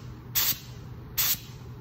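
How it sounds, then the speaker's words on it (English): Two short, loud hissing bursts of Decon 7 solution from a spray gun during a test spray, each lasting about a quarter second, with a steady low hum and quiet background in between. "And then I want to do a test spray."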